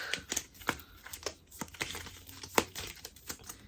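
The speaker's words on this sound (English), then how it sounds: "So let's do our final shuffle" Crisp, rapid crinkling and flicking of a deck of cards being shuffled, a close, quiet burst of small snaps.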